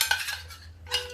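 A spoon clinks and scrapes against a bowl while stirring yogurt, a few quick close knocks with a brief pause between.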